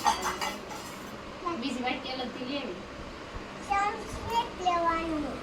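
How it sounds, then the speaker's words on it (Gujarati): A young child clatters metal pots, pans and utensils at home, with scattered clanks and scrapes mixed among a child's chatter and an adult's voice. "આખો દી આવા વાસણ ભેગા જ કર્યા રાખે"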